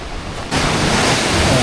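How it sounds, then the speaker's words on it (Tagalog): Ocean waves at an island lagoon on Limasawa Island surge in after a quiet half-second, then keep up a loud, close, steady wash of surf mixed with wind. "Tignan yung alon, guys."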